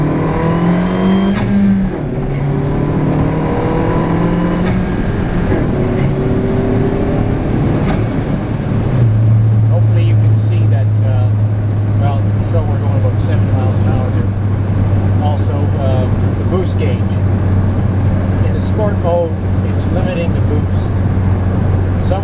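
Abarth X1/9 engine on a road test drive, a loud steady drone that shifts pitch as the car gears up and cruises, close and continuous with someone talking over it.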